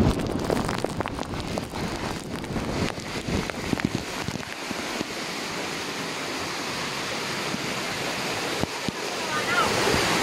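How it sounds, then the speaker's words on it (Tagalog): Loud rushing floodwater roars steadily, overflowing like a heavy torrent during Typhoon Kristine, with gusty noise and brief voices mixed in. "Ngayon, umapaw na."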